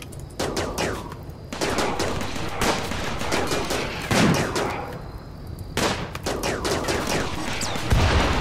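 Rapid bursts of turret and machine-gun fire in RimWorld, loud repeated volleys separated by short pauses, with sharp cracks throughout.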